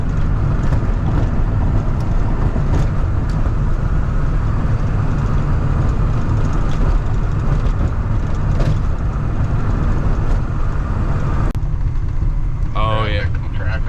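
A truck drives along rough roads between Pennsylvania and Michigan, its steady low engine and road rumble loud and continuous with wind buffeting, dropping away near the end as a brief higher whine or voice sounds.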